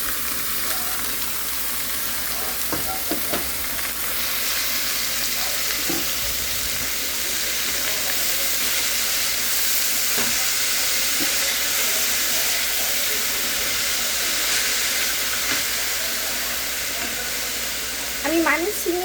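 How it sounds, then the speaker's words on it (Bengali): Water spinach frying with sliced onion and green chilli in hot oil, a steady sizzle and hiss running throughout with occasional stirring clinks, close and fairly loud, a voice briefly audible over it. "আমি পেঁয়াজটা একটু ভাজা ভাজা হয়েছে, শাকটা দিয়ে দিব।"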